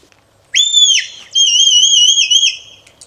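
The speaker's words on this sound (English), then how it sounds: "And that whistle and that command, that'll do." A shepherd's whistle command to a herding dog at a sheepdog demonstration on the Ring of Kerry in Ireland: two clear, loud high-pitched whistles, the first short and falling, the second longer and sustained, heard alone.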